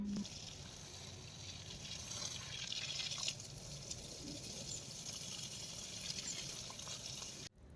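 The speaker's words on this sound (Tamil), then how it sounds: "செடிகளுக்கு எல்லாமே தண்ணீர் வந்து பாய்ச்சிட்டு" Garden plants being watered in a home vegetable garden in the morning, water running steadily with a broad hissing splash that carries on without break throughout.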